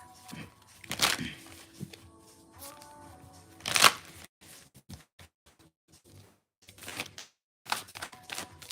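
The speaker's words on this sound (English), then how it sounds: "let's get a angels and ancestors oracle card to wrap this up for the air signs." An angels and ancestors oracle card deck is shuffled indoors in a few short, crisp bursts of riffling and sliding cards, with quiet gaps and faint handling noises between them.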